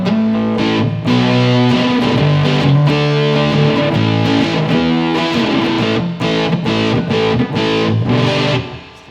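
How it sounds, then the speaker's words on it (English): Electric guitar played through a fuzz pedal effect in AmpliTube on an iPhone, a thick, saturated distorted tone with sustained chords and riffs, loud and continuous before cutting off at the end. "so there's also the fuzz pedal"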